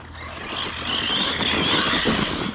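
A Helion Avenger RC car runs on a 3S battery, its electric motor rising into a loud, high, buzzing whine that holds steady up close, with no talking.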